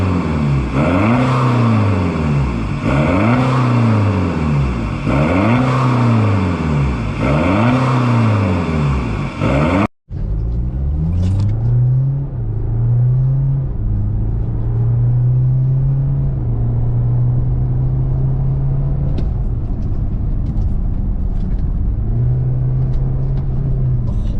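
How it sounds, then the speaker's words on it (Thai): A BMW F30 diesel car with an aftermarket Euro Arts exhaust revs hard in repeated rising bursts, then after a brief cut accelerates in a long, steady droning climb with a rumbling exhaust. "เดี๋ยวลองไปดูคลิปเสียงครับตอนเร่งจะเป็นยังไงนะครับ"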